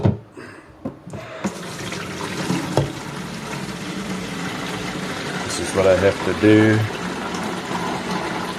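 Cacti in troughs being watered from a watering can with water that has an acidifying additive mixed in. A steady, splashing stream of water runs throughout, with a person briefly speaking over it.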